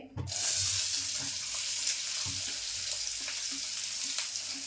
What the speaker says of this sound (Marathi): तेल तापलं आहे आता कांदा टाकून घेते